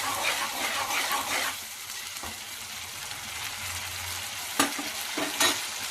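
Masala fries in oil in a pan for koramenu pulusu, a steady close sizzle that softens midway, with occasional sharp spoon scrapes as it gets stirred.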